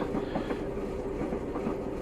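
Class 121 single-car diesel multiple unit running in Train Simulator Classic on the Aberdeen to Peterhead line, a steady rumbling engine drone with rhythmic clickety-clack of wheels over rail joints, continuous and close.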